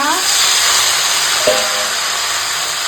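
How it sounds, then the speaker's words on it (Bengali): Chopped tomato and soaked chickpeas hit frying potatoes in a pan, giving a loud, steady hiss and sizzle that continues throughout, with a brief clink partway and a voice talking faintly over it. "আর এখন দিয়ে দিচ্ছি এই যে টমেটো কুচি দিয়ে দেবো ভিজা হওয়া ছোলা"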